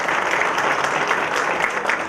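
Sustained audience applause at a labour law seminar hosted by an HR group, steady dense clapping filling the whole stretch at a fairly close, even level with no voices over it.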